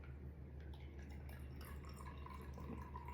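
Cold Prosecco pours into a glass in a quiet trickle with faint dripping and fizzing, close by and soft, with no talking.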